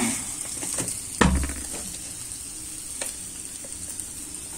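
Cauliflower bhujiya frying in a pan, a continuous crackling sizzle with a loud clatter of a spoon as it is stirred, followed by lighter scraping taps over the ongoing hiss.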